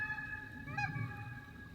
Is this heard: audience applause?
no